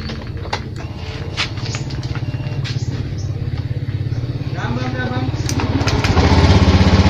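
A Honda Beat FI scooter engine, just repaired after failing to start, running at a steady idle close by, its throttle rising slightly near the end, with faint voices underneath.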